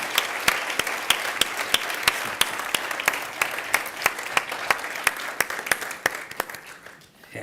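Sustained audience applause for Professor Klaus Schwab at the University of Johannesburg, a dense wash of many hands with a few sharp, loud claps standing out, tapering off at the end.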